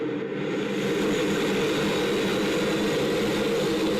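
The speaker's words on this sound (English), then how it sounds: "And we allow the engine to start." Concorde's number 3 engine spools up in the X-Plane 11 flight simulator, a loud steady jet roar and whine that holds constant throughout with no voices.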